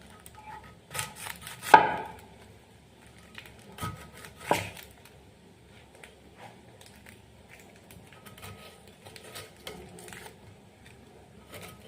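A knife chops through a week-old onion on a cutting board, with a few sharp board knocks and scattered lighter cuts spread over quiet stretches.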